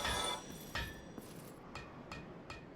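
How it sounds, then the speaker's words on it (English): A blacksmith's hammer in Dark Souls strikes metal in a series of bright, ringing clinks, about six blows spaced unevenly and each decaying quickly, fairly quiet against a soft background. "Sweet sounds of the little hammer."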